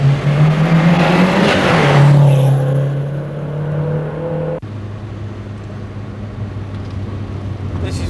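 A Renault 5 GT Turbo races and accelerates hard, its engine loud and rising in pitch before it eases off to a lower, steadier drone, with a brief tire noise early on.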